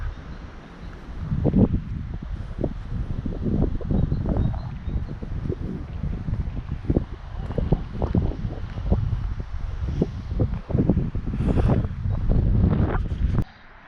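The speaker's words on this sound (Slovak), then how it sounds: "lebo však tu dosť fúka akurát" Wind gusts buffet the microphone at a hilltop lookout tower near Berg, Austria, by a wind farm, roaring in uneven low rumbles that swell and ease across the whole stretch with no speech.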